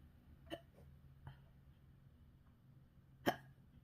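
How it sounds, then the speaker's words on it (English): A woman hiccups twice while doing diamond painting at a craft table, two short sharp catches spaced about three seconds apart, the second louder, over a quiet room. "Oh, now I got the hiccups."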